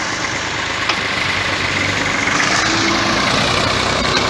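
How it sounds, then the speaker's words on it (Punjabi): Belt-driven electric motor on an automatic brick making machine, a loud, steady running drone with a constant mechanical whir and no break, heard alone without any talking. "ਇਹ ਜਿਹੜੀ ਮੋਟਰ ਹੈਗੀ ਹੈ ਇਹਦਾ ਬੈਲਟ ਲੱਗਾ ਹੋਇਆ"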